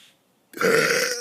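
One loud, deep, drawn-out burp erupts after a moment of silence and rumbles on for nearly a second, close and unaccompanied by talk.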